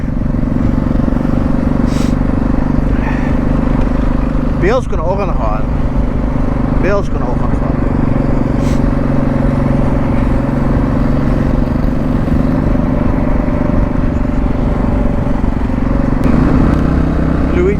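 A motorcycle carrying a father and passenger holds a constant engine drone with wind and road noise close by, while people talk over it.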